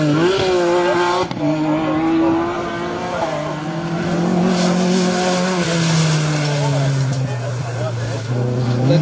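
Black Opel Kadett GTE rally car on a dusty special stage, engine howling loud and close with rising and falling revs and gear changes, tires scrabbling, a commentator talking over it.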